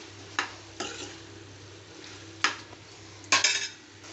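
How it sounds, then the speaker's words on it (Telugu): Tomatoes and green chilies fry in a pan under a low hiss, broken by a few sharp scrapes and clinks of a spoon stirring. "ఆరు ఆరు పచ్చిమిరపకాయలు వేసి వేయించుకుంటున్నా"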